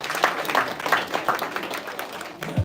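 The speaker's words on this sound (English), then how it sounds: "let's give her a warm round of applause and welcome her to the stage." An audience claps for a speaker at a public speaking competition, producing a dense, steady patter of many hands that is fairly close and continuous throughout.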